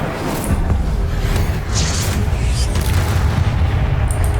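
Incendio fire spell cast in the Hogwarts Legacy video game, a loud rumbling burst of flame with a sustained roaring low whoosh and brief bright crackles, close and continuous throughout.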